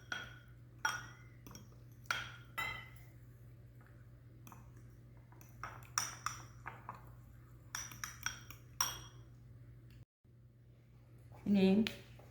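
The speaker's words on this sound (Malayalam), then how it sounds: "ഇനി നമ്മൾ ഈ കൊക്കോ പൗഡർ ഒരു ലേശം ചൂടുവെള്ളത്തിനകത്തിൽ ഒന്ന് അലിയിച്ചെടുക്കുകയാണ്" A spoon clinks against a glass while stirring cocoa powder into hot water, giving sharp, light taps about once a second over a steady low hum, followed by a louder scrape near the end.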